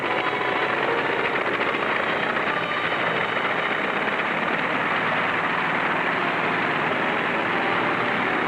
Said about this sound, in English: The plane just took off.